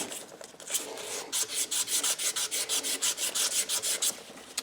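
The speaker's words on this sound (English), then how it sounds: "We'll just give that a clean up with a bit of emery tape." Emery tape rubbed back and forth over a metal surface to remove burrs and dirt during a cambelt job, a quick regular series of close scratchy strokes that gets steadier and louder after the first second.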